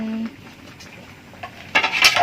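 Cooked pak choi being set onto a plate, with a few clinks of dishes and utensils toward the end after a brief tone at the start; no talking.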